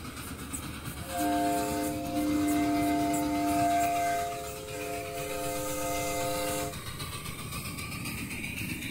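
A live steam miniature train is pushed along by a switcher locomotive, with a sustained multi-tone whistle blowing for several seconds over a steady rolling rumble, heard without talking.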